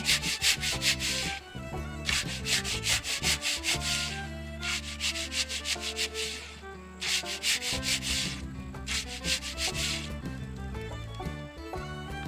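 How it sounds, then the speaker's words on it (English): A part for a 60-foot windmill build is smoothed out by rubbing, with repeated sanding-like strokes in close, loud rhythmic bursts and pauses between them, and no talking. "So now what Daniel's doing is just smoothing it out. And go ahead and get all the air out of it."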